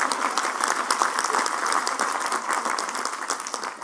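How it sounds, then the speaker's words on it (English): Commencement audience applauding steadily at a university graduation ceremony, a dense, even wash of many hands clapping at moderate distance, sustained for the whole stretch without pause. "you can clap"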